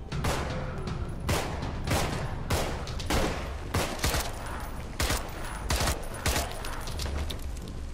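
Rapid, repeated gunfire from the zombie video game Contagion, loud bursts of shots in an uneven rhythm lasting throughout, with no talking.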